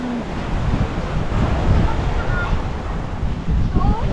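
Sea waves wash steadily on a windy shore, with wind buffeting the microphone in a continuous broadband roar; a faint voice briefly sounds in the background.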